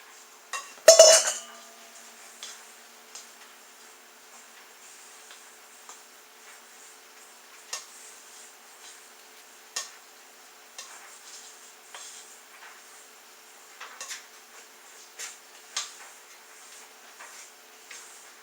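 A spatula stirs stiff oatmeal raisin cookie dough in a bowl, opening with one loud clatter and then giving soft scrapes and light knocks at an irregular pace in a quiet kitchen, with no one speaking.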